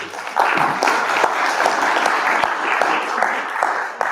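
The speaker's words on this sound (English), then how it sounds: "Round of applause to everybody." A room full of people claps steadily for the team at a maritime business gathering, a dense, even wash of applause with individual hand claps popping through for about four seconds.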